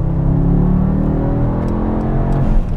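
A Brabus Rocket 1000 Mercedes in Sport Plus mode accelerates hard from 90 to 150 km/h, a loud continuous engine drone with rising tone heard from inside the car, with no talk.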